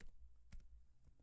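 Quick, faint keystrokes on a computer keyboard, a short burst of light clicks close by while entering a web address on a PC, with no speech.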